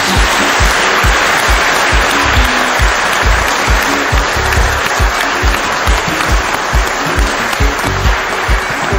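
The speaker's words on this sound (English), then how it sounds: "join me in giving Dr. Munang another round of applause." Applause from the audience for a speaker at a climate change talk, a steady and loud sound of clapping held for the whole stretch. It has a dense texture with a rumbling low end.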